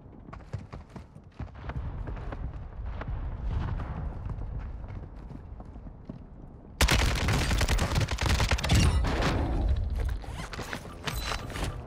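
AK assault rifle fire in Warzone 2: scattered sharp shots give way to a loud sustained burst of rapid automatic fire that fills the second half, close and alone with no talk.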